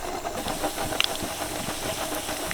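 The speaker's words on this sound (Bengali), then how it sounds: "বাদামগুলোকে এইভাবে নাড়তে নাড়তে মিডিয়াম আছে ভালো করে ভেজে নেব" Peanuts fry in hot white oil on a perforated ladle while being stirred, a faint steady hiss and bubbling with light scraping and a couple of small clicks.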